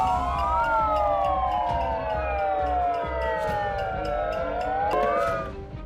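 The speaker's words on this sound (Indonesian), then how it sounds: "Mereka juga menyalakan sirine melalui pengeras suara untuk menarik perhatian" Protesters play a siren through a loudspeaker, its loud wailing tones sweeping up and down continuously and layered with more siren-like notes, with no talk.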